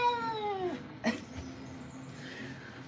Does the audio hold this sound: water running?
no